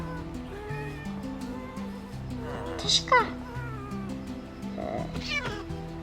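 A cat in the video game Minecraft gives two clear meows, fairly close, over steady background game music, while someone talks and another voice imitates the meowing.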